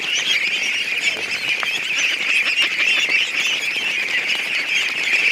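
Ducks quack and squawk in a busy, continuous chorus close by, calls overlapping with no pause and no talking.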